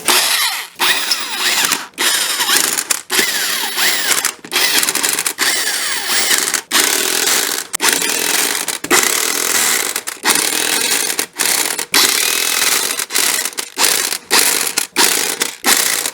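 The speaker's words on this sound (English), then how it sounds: "I'm going to put your wheel back on and reinstall your lug nuts." Power tool running loud and near, likely an impact wrench driving lug nuts back onto a 2005-2010 Chrysler 300 wheel, with sustained whirring broken by short gaps between bursts.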